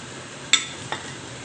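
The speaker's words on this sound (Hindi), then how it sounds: "ये देखें अब इसमें हमने चिकन डाल दिया है, और बस इनको हल्का सा हमने फ्राई करना है" Chicken for a spring roll filling fries lightly in a pan with a soft, steady sizzle, broken by two quick metallic clinks of a utensil.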